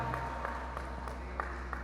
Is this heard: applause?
yes